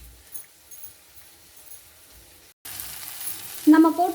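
Pasta being stir-fried and tossed in a pan with tomatoes, quiet at first, then a sudden louder sizzle and frying hiss with stirring scrapes near the end.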